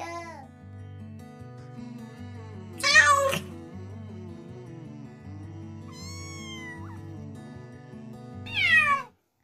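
A cat meows three times over a children's phonics song with steady backing music; the meows come about every three seconds, bright and clear above the tune.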